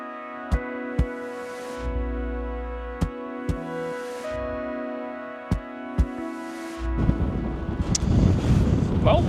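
Strong wind buffets outdoors near waterfalls on the wintry outskirts of Reykjavík, Iceland, a steady low roar that swells louder toward the end. Sharp knocks punctuate it and a voice talks faintly underneath.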